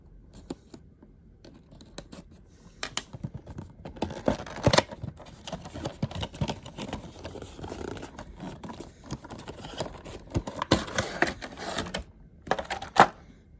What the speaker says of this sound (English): let's go ahead and cut the tape on the top